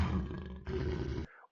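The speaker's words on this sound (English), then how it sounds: "we can insert a lion with the sound of lion roaring" A lion roaring in two loud, deep sustained bursts, the second cut off abruptly, standing alone with no other sound.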